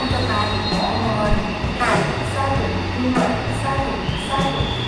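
Whoosh high-speed train at Karawang station, a loud steady rumble and rush of rail noise with faint tonal squeals, a station announcement chime and voices heard over the platform hum.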